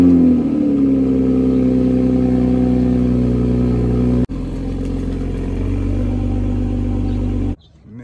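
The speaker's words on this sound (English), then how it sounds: "I'll go ahead and move the car, probably just bring it into the middle so I can easily wash it." A 2020 Toyota Supra engine runs steadily at close range for about seven seconds, idling and creeping as the car is moved, with a brief dip midway and cutting off near the end.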